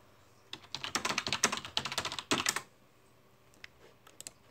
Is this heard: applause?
no